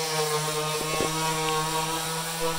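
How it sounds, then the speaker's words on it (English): Power sander working on a sailboat during refit, a steady droning motor whine with a constant pitch, close and loud throughout, with a couple of brief clunks near the one-second mark. "There we are, sanding, taking things from looking like this to looking like that."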